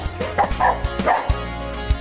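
Dogs bark and yip repeatedly outdoors on a farm path, several close, excited barks with whimpers mixed in, in quick irregular bursts.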